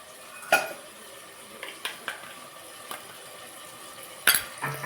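Ginger paste goes into cooked tomatoes in a pan with quiet, scattered clinks and scrapes of a spoon against metal over a faint background hiss, and no one talks.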